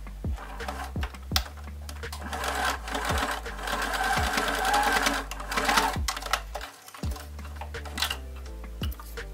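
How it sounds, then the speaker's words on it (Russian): Steady whir of a sewing machine stitching small folded 3 by 5 cm fabric pieces for a bottle bag, running continuously at close range with scattered clicks and taps throughout. "и тоже прокладываем строчку."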